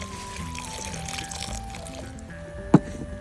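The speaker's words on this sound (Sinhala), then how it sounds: "කපාගත්ත දෙල් කෑලි ටික මෙන්න මේ වගේ හොඳට හොදා ගන්න" Cut jackfruit pieces are washed in water, giving a steady close pouring and sloshing sound with a faint background tone and one brief knock near the end.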